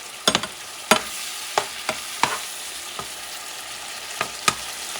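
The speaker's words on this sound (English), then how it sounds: "Let it cook for a little bit so that tomato cooks." Tomato and ground beef cooking in a pan for Puerto Rican rice, a steady sizzle broken by several sharp utensil clinks and scrapes at irregular intervals, close by and without talk.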